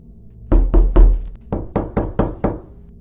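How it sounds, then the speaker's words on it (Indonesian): Loud knocking on a bedroom door, two groups of heavy thuds, three close blows then five evenly spaced knocks after a short pause, near and forceful. "tiba-tiba ada sebuah suara yang muncul dari pintu kamar mereka,"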